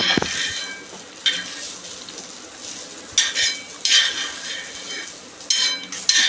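Onion roasting in a pan for a fresh green pea amti gives a low background sizzle, broken by several sharp scrapes and clinks of a spatula stirring against the metal, close and fairly loud.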